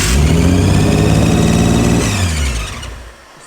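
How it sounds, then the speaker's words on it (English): A Nissan R34 GTR engine revs loud and close with a harsh, hissing edge like an intake leak, holding a high steady pitch before dropping off toward idle near the end. "It sounds like intake leaks, but it doesn't change."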